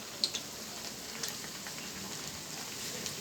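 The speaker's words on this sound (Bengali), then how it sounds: "সেজন্য কুমড়োলি ভাজছি।" Pumpkin fritters frying in a pan: a faint, continuous fine sizzle and crackle with a couple of small pops near the start, no voices over it.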